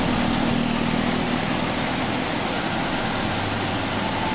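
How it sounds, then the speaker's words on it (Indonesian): Strong river current rushing beneath the Kalimeri bridge, a steady, dense broadband roar with no breaks, loud and continuous throughout. "Itu adalah penampakan sungainya, pemirsa. Arusnya seperti itu. Arusnya sangat deras sekali."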